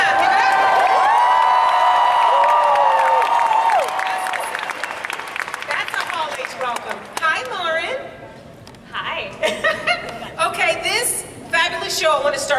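Huge Hall H crowd at San Diego Comic-Con 2019 for Netflix's The Witcher panel erupts in loud cheering, whooping and applause, the roar fading into scattered claps and chatter with voices over it.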